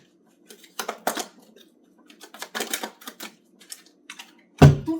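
Tarot cards are shuffled close by in a quiet room, giving short riffling bursts and soft flicks in irregular clusters. A sharper snap near the end sounds like the deck being tapped square.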